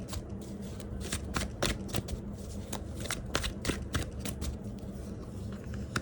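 Tarot cards are shuffled continuously up close, a dense run of crisp riffling and flicking slaps repeating without pause, with no voice over it.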